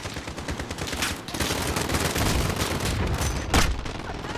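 Dense, rapid gunfire from Call of Duty Modern Warfare during a campaign firefight, a sustained rattle of shots with overlapping bursts and a louder crack near the end, close and loud throughout.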